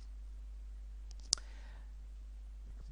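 A single sharp computer mouse click in a quiet room during a 3D selection tutorial, one brief isolated tick over a low steady hum, with no talking.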